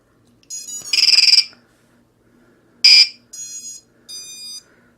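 A ViFly Finder drone buzzer chirps in short, loud, high electronic tones, several separate bursts with pauses between them, against near silence.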